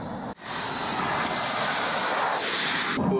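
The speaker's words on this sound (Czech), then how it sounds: "Aero L39 Albatros je proudový podzvukový cvičný letoun" An Aero L-39 Albatros, a Czechoslovak subsonic jet trainer from the 1960s built by Aero Vodochody, flies past with a loud, steady roar. It runs almost unbroken for about three seconds after a brief dip near the start.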